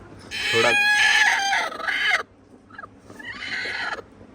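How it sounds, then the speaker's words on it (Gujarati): A brooding hen sitting on eggs calls loudly up close in two drawn-out bursts separated by a brief quiet pause. "એક કુકડી અંદર છે, પણ તમને બતાવું."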